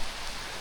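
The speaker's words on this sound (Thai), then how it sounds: "ฝนมื้อนี้" Rain falls steadily in a forest, a dense even hiss of drops on leaves and surfaces, close and continuous over a brief moment.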